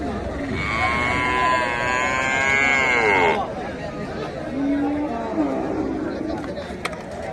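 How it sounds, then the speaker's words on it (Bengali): Cattle at a weekly Monday cattle market in Rupganj, Narayanganj, with one long, drawn-out bellow that trails off, heard over steady crowd chatter and people talking nearby. "আপনাদের আমরা আরও কিছু গরু দেখাচ্ছি"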